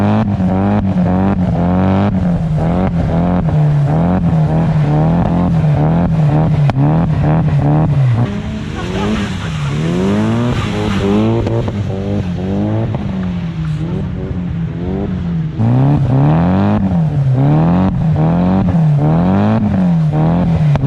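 A Nissan Silvia S15 with an SR20 engine and aftermarket manifold revs hard while drifting, loud repeated rising and falling exhaust pulls with bouncing limiter-like stutters, heard close and alone.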